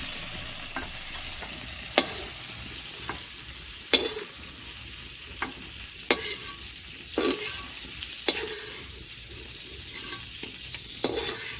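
Prawns sizzle steadily in hot oil in a pan, fried until half-cooked and soft rather than crisp. A spatula scrapes through them every second or two with sharp clicks over the constant hiss, and no one speaks.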